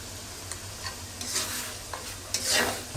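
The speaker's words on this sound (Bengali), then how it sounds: "এখন এগুলো ভালোভাবে হচ্ছে নেড়ে চেড়ে আরও কিছুক্ষণ কষিয়ে নিব" Chicken roast masala with cumin paste stirred and fried in a pan, a faint continuous sizzle broken by a few quick scraping strokes of the spoon, close and with no one talking.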